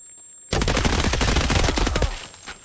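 Sustained automatic gunfire in Escape from Tarkov, a loud fast rattle of shots that starts abruptly and runs for about a second and a half before cutting off.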